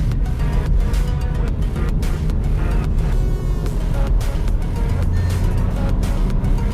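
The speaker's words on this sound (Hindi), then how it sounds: "इंजन नॉइज़ तो आपको आएगी जैसा मैंने बताया था" Engine noise from a Skoda Kushaq 1.0 TSI automatic under throttle, a steady, loud interior drone with broadband road rumble that holds evenly throughout.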